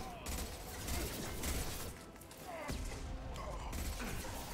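Gunfire from the video game Mass Effect 2 during a shield generator fight: dense, rapid bursts of shots and impacts with crashing thuds run almost continuously, loud and busy throughout.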